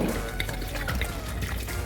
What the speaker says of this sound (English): I'll transfer this into my pot and top it up with water to be at the same level with the yam